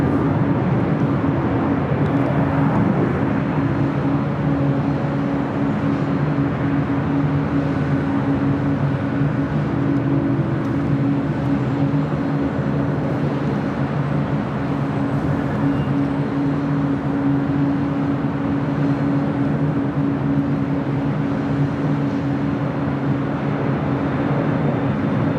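A Boeing 767 airliner taxies on the south side of LAX, its engines making a loud, steady drone with a faint whine that holds constant throughout.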